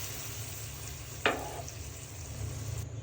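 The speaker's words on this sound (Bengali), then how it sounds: "এই তো রান্না করার জন্য এখন আমি ঝোল দিয়ে দিব।" Broth poured into a pot of beef and potato curry, a sharp hissing splash at about a second in that dies down into steady sizzling and bubbling, with no talk.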